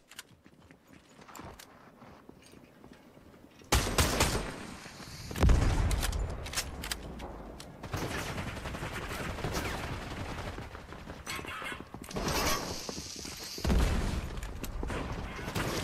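Gunfire from a heavy-recoil gun in Call of Duty Search and Destroy, with loud dense bursts of shots starting a few seconds in and continuing in clusters amid game noise.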